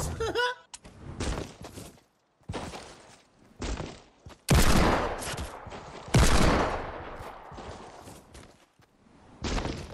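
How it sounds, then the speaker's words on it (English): Bursts of gunfire in the video game Fortnite, several separate volleys of rapid shots with gaps between them, mixed with footsteps and players talking. "I just got shot at"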